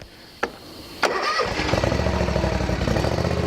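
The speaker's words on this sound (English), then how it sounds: "Now I'm going to crank the mower and see what happens." Lawn mower engine cranked over: a short click, then a sharp catch as it fires and settles into a steady, loud rhythmic idle chugging up close.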